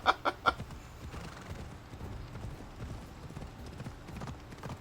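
A few quick hoof clops open the clip, then a softer rhythmic galloping patter of a flaming horse in Assassin's Creed Odyssey continues under faint background noise.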